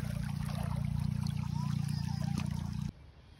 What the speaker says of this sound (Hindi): भाई यहाँ से पानी गया है खुल, कितनी तेजी से